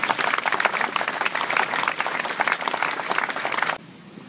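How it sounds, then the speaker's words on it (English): An audience applauds at a U.S. Army garrison closing ceremony, with dense, loud clapping from a crowd lasting nearly four seconds before it stops abruptly. "please join me in a big round of applause and thank them again for their years of commitment to our soldiers and this community."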